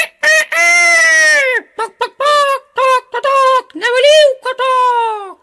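A high, harmonic voice crows in several drawn-out, rooster-like calls with short gaps, most likely a person imitating a rooster's cock-a-doodle-doo.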